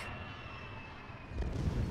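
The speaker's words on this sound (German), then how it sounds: "Das Flugzeug!" An airplane drones overhead in the video game Resident Evil Revelations, a steady engine hum with a thin whining tone. It ends in a sudden, louder low rumble as the plane goes down.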